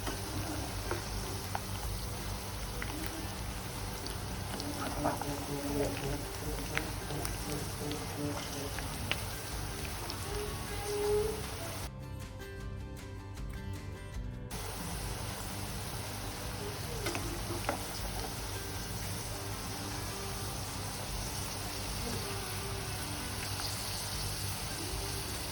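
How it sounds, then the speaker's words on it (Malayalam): Beetroot chips frying in a small amount of oil, a steady soft crackle and sizzle that stays faint and continuous throughout, with a brief quiet gap partway through. "നല്ല രീതിയിൽ ഫ്രൈ ആയി വരുന്നുണ്ട്."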